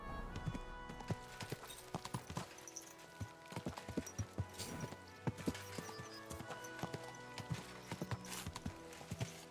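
Horse hooves clip-clop on a road in Kingdom Come Deliverance 2, a steady rhythmic series of crisp hoof strikes at a walking pace, heard clearly with game ambience and no talking.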